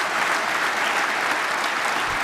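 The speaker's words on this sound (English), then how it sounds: "Please give them a round of applause" Audience at a governor's State of the State address breaking into steady, dense applause that fills the hall at an even, fairly loud level throughout.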